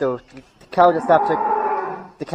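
Cattle lowing inside a barn during calving season, with several long, loud moos close by, separated by brief pauses and no talk.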